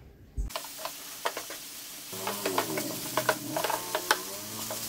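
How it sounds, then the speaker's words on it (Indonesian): Grated coconut and palm sugar being stirred in a pan: scraping, clicking strokes over a soft sizzle, sparse at first and then busier and steadier, close and moderately loud, with no talking. "Kita aduk-aduk terus hingga gulanya benar-benar meresap pada kelapa parutnya."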